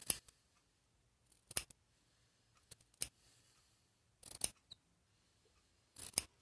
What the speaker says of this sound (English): Did y'all hear my scissors squeak?